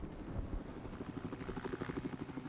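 A helicopter in the video game Battlefield 4 produces a rhythmic, pulsing rotor thump that is steady and fairly faint, with no talk over it.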